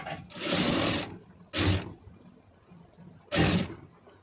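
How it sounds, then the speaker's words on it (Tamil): Bursts from a sewing machine stitching a fabric strip (patti stitching) done without an overlock machine: three loud runs of rapid motor-driven stitching, the first about a second long and the next two shorter, separated by quiet gaps. "இப்போ இதில் அப்படியே வச்சு தையல் போட்டுடலாம்"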